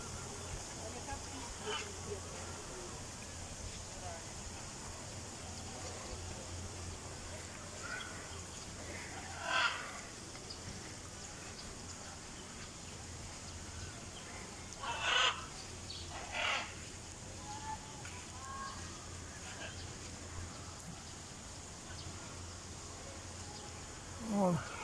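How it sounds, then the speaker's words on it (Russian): Parrots, cockatoos among them, screech on hotel grounds in Pattaya, Thailand, with a few brief harsh squawks rising now and then above steady outdoor background noise. "А тут сидят, орут попугаи."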